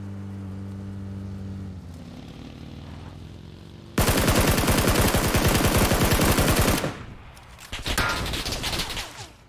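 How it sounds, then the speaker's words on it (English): Automatic gunfire in PUBG on Xbox One: a vehicle engine drones first, then a loud, rapid sustained burst of shots for about three seconds, followed by another harsh burst of firing near the end. "Oh, there's someone else in the field shooting."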